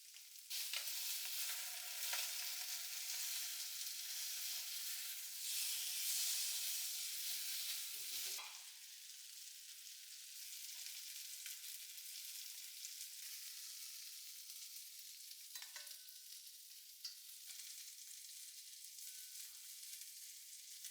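Sardines frying in a pan of hot oil give a loud, continuous hiss and sizzle that settles slightly quieter partway through, with brief stirring scrapes and no talk.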